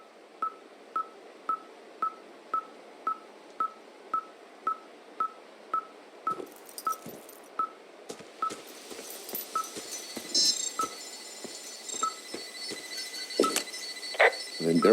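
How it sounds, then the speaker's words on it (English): An electronic device in the video game Firewatch beeps in a fast, evenly spaced series of short tones, then grows more erratic as wind and other game sounds rise around it. "this thing is losing its mind, beeping like crazy"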